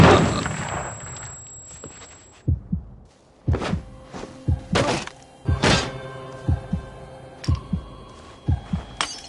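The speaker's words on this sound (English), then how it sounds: "They're bombing us again!" Bombs falling and exploding nearby, a heavy roar at first, then a string of deep, thudding blasts at irregular intervals, some close and loud, others duller, with no talking.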